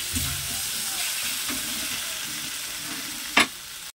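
Chopped tomato sizzles steadily as it is stirred and fried in a pan for a spicy tengra fish and potato curry, with soft scraping throughout and one sharp, louder scrape of the spoon near the end.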